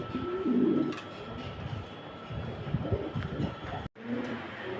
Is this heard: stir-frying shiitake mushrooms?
no